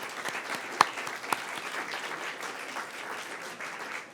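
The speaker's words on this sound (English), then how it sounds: "please join me in thanking and giving a round of applause to our pianist," Round of applause for the pianist at a university alumni awards ceremony, a steady even patter of many hands from a seated audience, with a couple of sharp, louder claps standing out near the start.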